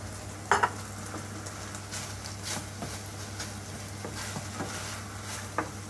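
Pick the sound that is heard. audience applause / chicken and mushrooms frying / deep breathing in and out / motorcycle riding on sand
chicken and mushrooms frying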